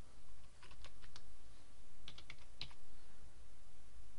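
Typing a password on a computer keyboard, a short run of light, quick key clicks in two small bursts over a steady background hiss, no voices.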